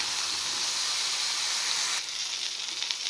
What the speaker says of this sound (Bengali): এবার বেগুনগুলো আমি ভেজে তুলে নেব।